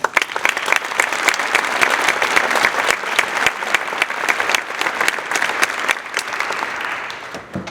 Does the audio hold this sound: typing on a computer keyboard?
no